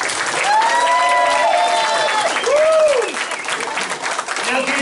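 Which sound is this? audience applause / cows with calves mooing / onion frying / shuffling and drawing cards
audience applause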